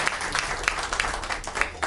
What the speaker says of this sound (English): So claps to both the teams.